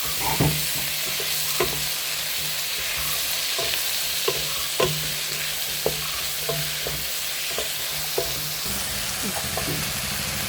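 Onions and tomatoes frying in a pan for a soya curry, a continuous close sizzle with regular light clicks and scrapes from stirring.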